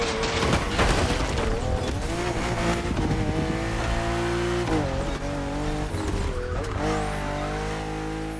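BMW M4 CSL racing through The Crew Motorfest, its engine roaring loud and steady with rising and falling pitch through gear changes, tire squeal and skids mixed in, no talking.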